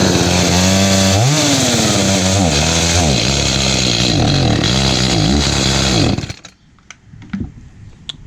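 An Echo CS310 chainsaw on a hot day runs loud and steady at high revs with some surging pitch swings, then cuts out abruptly near the end as it chokes itself off, leaving faint clatter.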